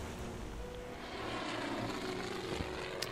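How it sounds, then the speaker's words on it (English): A bomber's propeller engines drone steadily and continuously during a torpedo attack in the Pacific war game Order of Battle Pacific, a full, rumbling mid-distance roar with no voices. "There's the other bomber."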